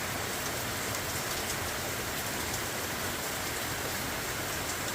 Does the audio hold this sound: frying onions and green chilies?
no